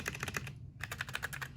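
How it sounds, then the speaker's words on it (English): Rapid typing on an Akko Sakura Jelly mechanical keyboard, a close, steady patter of crisp keystrokes with a brief pause midway, heard alone. "It's just how the keyboard sounds."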